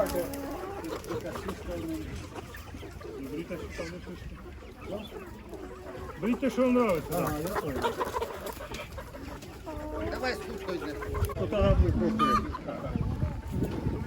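Many broiler chicks about twenty days old and hens cluck and cheep in a busy outdoor market crowd while people talk over them.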